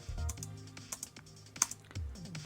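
Computer keyboard keys, including the spacebar, pressed repeatedly during a Sonic the Hedgehog fan game, a run of sharp close clicks and taps over quiet game music.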